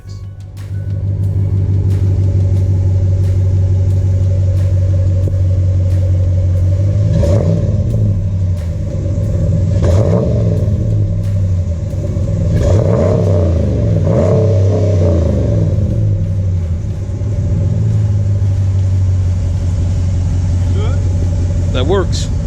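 Engine and exhaust of a 2016 Ram Sport truck idling with a steady low rumble, then revved repeatedly in rising and falling bursts, close and loud throughout.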